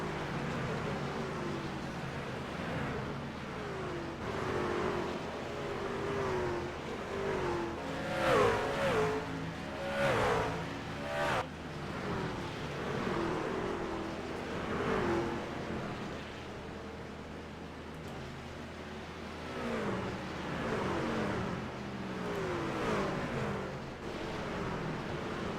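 Racing truck engine howling at full throttle during a NASCAR-style truck race at Nashville Fairgrounds, a sustained strained roar with rising and falling pitch as trucks pass, no talk.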